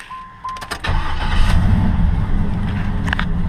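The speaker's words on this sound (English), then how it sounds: "we got the motor in. It cranks right up." A 1993 Buick Roadmaster with a swapped-in LS1-style 5.3 V8 cranks for a short moment, then catches and settles into a steady, loud rumbling idle close by.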